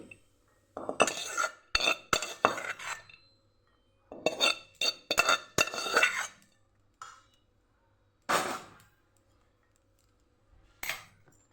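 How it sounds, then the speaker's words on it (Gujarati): A spoon scrapes and clinks against a large bowl while boiled mung bean salad is transferred and mixed. The sound comes in several close, rhythmic bursts of metallic clatter, separated by short quiet pauses. "આપણે આ મોટા બાઉલમાં કાઢીને બધું મિક્સ કરી દઈશું"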